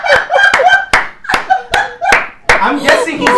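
Hands clap close and loud in a few sharp, uneven smacks, with a voice talking and laughing between and over them.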